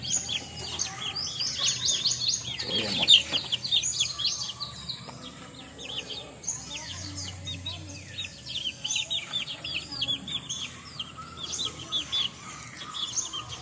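Pet backyard chickens, one of them sick with a cold, make soft clucks and chirpy calls scattered throughout, with a brief louder burst early on amid faint background noise.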